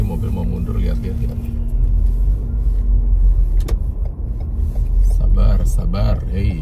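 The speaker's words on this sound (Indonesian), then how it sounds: "Ini mobil mau mundur, lihat-lihat ya." A car reverses slowly in a snowy parking lot in Canada, its engine a low, steady rumble close by while people talk over it.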